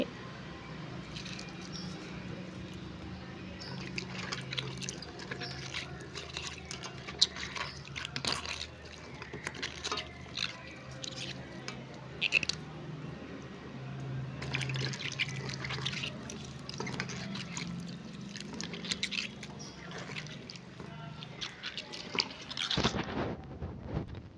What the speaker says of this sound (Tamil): நல்லா தோல் வர அளவுக்கு பிசைஞ்சுக்கோங்க தண்ணியில் நல்லா தோல் கழண்டு வரணும்